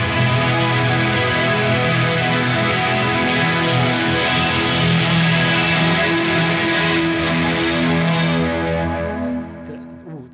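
Shoegaze-style electric guitar through an HX Stomp with reverb, a dense, distorted wash of sustained chords shimmering with chorus, loud and continuous for about ten seconds before trailing off at the end.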